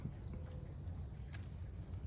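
Crickets chirp steadily in a garden, a thin continuous pulsing trill faint in the background with no talk over it.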